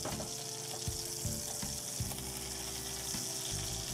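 Salisbury steak patties browning in a frying pan sizzle steadily and close up, with a dense crackle that holds throughout and a few brief clatters or shifts of the pan.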